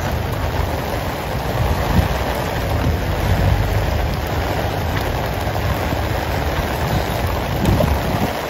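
Heavy rain pours down in Green Hills, San Juan, a dense, loud, continuous patter and hiss of large drops hitting surfaces, steady throughout with no talking.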